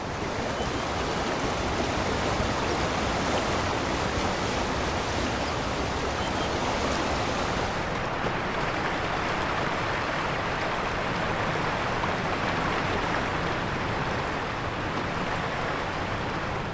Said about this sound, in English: How about standing next to the stream? Listen for the water and the sound around you